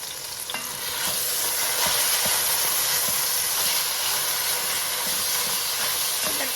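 1.5 pounds of hamburger meat frying in a pan as the base for Coney Island-style chili, a steady close sizzle and hiss with scraping stir strokes throughout, no voices.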